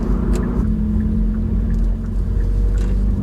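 A Hyundai i30N facelift with a DCT gearbox and an RPM Performance full exhaust idles or cruises with a steady, deep, droning burble that stays loud and even throughout.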